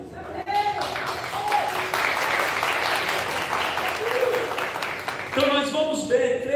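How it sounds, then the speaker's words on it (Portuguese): A church congregation claps their hands in a dense, steady burst of applause, with a speaking voice heard at the start and again near the end over the clapping. "exalte o som de suas palmas"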